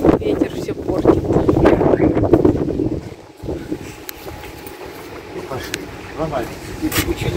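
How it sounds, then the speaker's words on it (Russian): Gusty wind buffets the microphone at an outdoor cafe terrace with tables set out in Kirov, a loud rumbling roar that eases partway through but keeps blowing steadily. "Ветер все портит."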